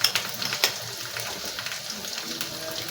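Dried fish and bean seeds fry in a pan and get a light stir, giving a soft, steady sizzle with a few scraping strokes near the start.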